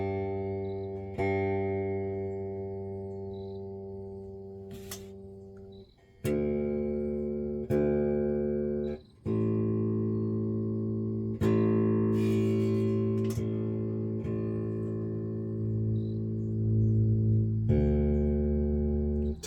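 An electric guitar on its rear pickup is tuned through an amp turned down very low, with single plucked notes and strums ringing out and decaying in turn, separated by brief gaps.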